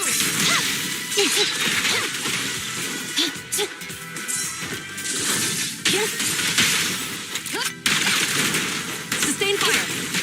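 Suppressed K-22 gunfire in a video game: a busy, continuous stream of sharp cracks and whooshing impacts with shattering debris, loud and dense over ten seconds, with occasional game voice callouts mixed in.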